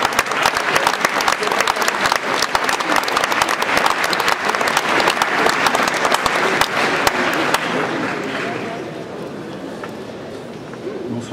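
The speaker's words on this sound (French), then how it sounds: "Vous pouvez les applaudir." An audience at the Utopiales 2017 awards ceremony applauds the youth prize jury, loud dense clapping that carries for about eight seconds and then fades out.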